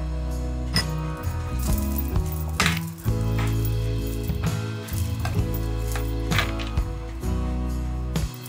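Garlic frying in a pan for crispy fried milkfish, a close, steady sizzle broken by scraping and stirring knocks.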